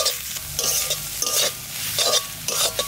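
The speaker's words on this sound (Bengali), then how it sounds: "ভালো করে নাড়াচাড়া দেবো যাতে নারকেলের গন্ধটা বেশ ভাজা ভাজা গন্ধ হবে।" Coconut paste is stirred and fried in a pan: rhythmic spatula strokes scrape through a steady sizzle, with bursts of bright frying noise at each stir and no talking.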